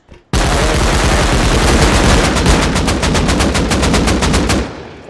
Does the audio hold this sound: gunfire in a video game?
yes